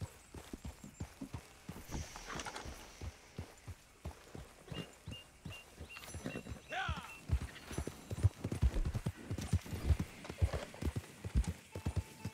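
Horse hooves in the video game Red Dead Redemption 2 clip-clop in a steady walking rhythm, close and fairly quiet, with a brief whinny and someone talking over them at times.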